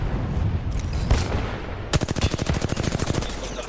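Gunfire in the shooter game Apex Legends: a few scattered single shots, then a fast, loud burst of automatic fire rattling in a steady rhythm.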